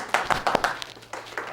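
A small audience at a real estate sales training session clapping, a brief scattered round of claps, light and uneven, over a quiet room.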